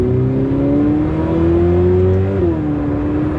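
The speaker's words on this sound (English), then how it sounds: "I am behind the wheel of a Ferrari 488 Pista" A Ferrari 488 Pista engine pulls hard and loud under acceleration, its steady rising drone briefly dipping at a gear change before climbing again.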